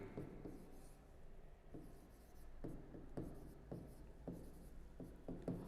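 Chalk or marker scratching across a board during a zoology taxonomy lecture, a series of short strokes in irregular bursts, fairly close and clear with no talk over them.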